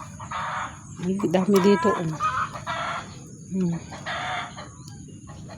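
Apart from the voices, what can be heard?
chickens clucking and crowing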